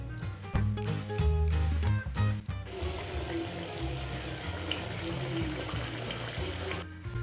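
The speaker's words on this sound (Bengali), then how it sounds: "তারপর এখানে আমি উষ্ণ গরম জল দিয়ে দিচ্ছি 2 কাপ পরিমাণে।" About two cups of warm water are poured into a cooking pot of spiced potato curry, giving a steady close splashing and filling sound, with some knocks and clatter at the start.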